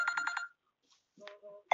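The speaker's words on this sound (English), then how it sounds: "that's my phone ringing." A mobile phone rings in a quiet room, a short burst of rapid repeated electronic trill notes, then a brief pause before more ringtone fragments sound faintly and cut off.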